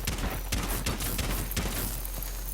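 Rapid bursts of gunfire in Rainbow Six Siege, shooting out a gadget near a hatch, several sharp shots in quick succession with a steady background hum, no talking.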